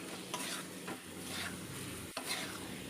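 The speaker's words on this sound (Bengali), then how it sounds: "ডিমগুলো সাথে মশলাটাকে আমি মিক্সড করে নিচ্ছি ভালো করে" Boiled eggs stirred into masala in a pan for hotel-style egg curry: a steady sizzle broken by a few soft scraping strokes and one sharp utensil knock, close and without talk.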